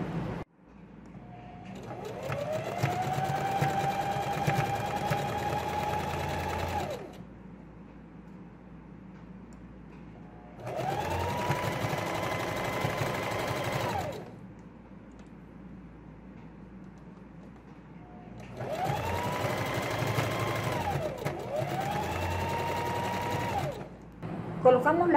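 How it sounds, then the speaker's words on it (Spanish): Sewing machine stitching elastic tape around the edge of a girl's garment in three long bursts of rapid whirring, separated by quiet pauses, close and clear. "La colocamos y pasamos costura por todo el contorno."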